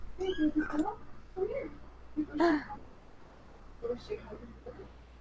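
A tabby cat meows loudly and close, giving four or five separate calls spaced a second or so apart over a low background hum.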